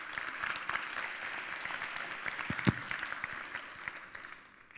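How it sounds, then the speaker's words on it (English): Conference audience at a global health event applauding to welcome a speaker on stage, a steady, moderately distant wash of clapping that fades toward the end. "please welcome Leroy Hood on stage"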